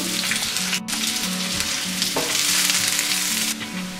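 Onion and green chilies frying in about two tablespoons of oil. A loud, close, steady sizzle and crackle carries throughout, with a brief sharp drop near the start and a swell in intensity midway. No one speaks.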